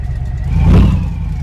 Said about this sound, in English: Alright, she cranks, obviously.